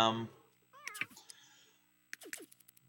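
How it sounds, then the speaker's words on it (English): Domestic cats meow a few times at close range, brief wavering cries separated by short gaps, with faint background sounds. "It's so good to have all my kitties back."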